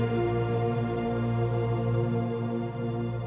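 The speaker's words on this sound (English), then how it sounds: "It's just a sequence synthesizer that I thought sounded similar to the time." Sequenced synthesizer tones built from simple sine and saw waves, a sustained harmonic-rich drone that holds steady and fairly loud throughout with no voices.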